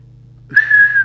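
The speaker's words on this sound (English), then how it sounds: "But I'm just going to do a whistle test." A single steady whistle into a Midland 77-810 UK 27/81 emergency CB radio on transmit, starting halfway through after a low hum and holding loud and sustained alone to the end.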